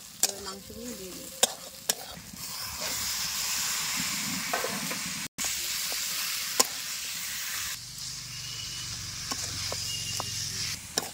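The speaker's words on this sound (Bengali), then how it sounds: "মশলাটা কষানো হয়ে গেছে, এবার মাংসগুলো দিয়ে দেবো।" Chicken pieces hit a pan of cooked spice masala with coriander powder and turmeric, giving a loud, steady sizzle punctuated by sharp clicks and scrapes of stirring, briefly cut off once midway.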